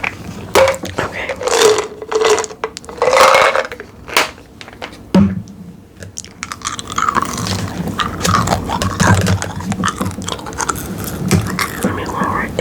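Close-miked ASMR gum chewing, with wet, sticky smacks and squelches in irregular bursts, quiet gaps in between, and a voice speaking now and then.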